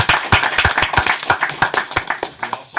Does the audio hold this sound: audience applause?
yes